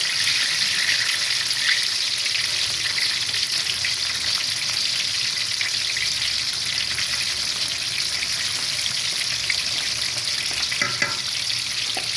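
Hot oil sizzles and crackles steadily as vegetables for karnıyarık fry in a pot, a constant loud hiss with occasional stirring sounds.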